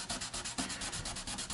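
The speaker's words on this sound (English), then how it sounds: "to clean this up a little bit with some sandpaper." Rapid back-and-forth rasping of sandpaper on a Star Trek Enterprise scale model, a steady rhythmic scrubbing up close with no voices.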